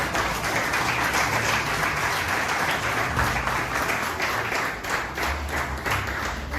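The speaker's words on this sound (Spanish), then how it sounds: "Denle un aplauso a Dios." Steady, sustained applause from a church congregation, dense clapping filling the whole stretch without letup, with faint murmurs beneath.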